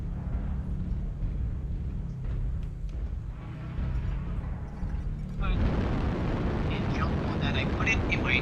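A video game missile explosion sets off a sudden, loud, broadband roar partway through. It follows a steady low rumble and then sustains with crackling debris.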